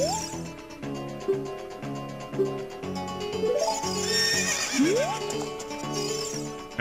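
A horse neighs repeatedly in The Legend of Zelda: Ocarina of Time 3D, its whinnies rising over game music with hoof clip-clops, with no speech.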